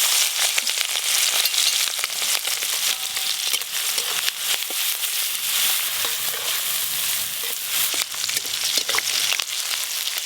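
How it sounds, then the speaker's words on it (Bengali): Salted, turmeric-rubbed prawns frying in a pan for a bottle gourd and prawn dish, a steady dense sizzle and crackle that stays loud and close throughout with no talk. "এবার চিংড়ি মাছগুলো প্রথমে ভেজে নেব।"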